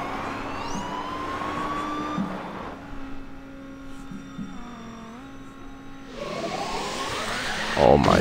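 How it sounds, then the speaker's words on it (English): In the Beach Buggy Racing 2 video game, an engine drones and whines while tonal siren-like sweeps rise and shift over a steady hum, with a louder burst near the end. "I literally have the damn sirens."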